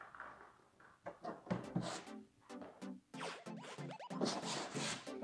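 Masking tape pulled off a roll and pressed down in a garage during wet sanding of car paint, a series of close, sharp ripping strips with crackling pulls and short pauses between them.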